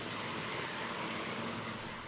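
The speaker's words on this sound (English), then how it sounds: "Another large helicopter has come to help." A large firefighting helicopter flying over a fire, a steady, broad rotor and engine roar holding constant throughout, distant-sounding and without talk.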